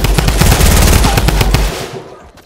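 Rapid bursts of automatic gunfire from a Fortnite match, loud and close, with dense repeated shots for well over a second before tailing off into quiet.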